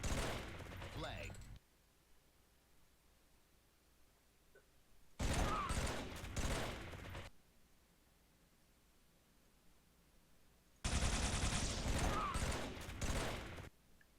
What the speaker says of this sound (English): This extra shooting is pretty borderline too, and I only seem to do this when I'm finishing kills